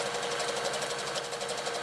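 A sewing machine stitches a tea cosy seam in one continuous, fast, even whirring run with a rapid needle rhythm, loud and close, with no talk.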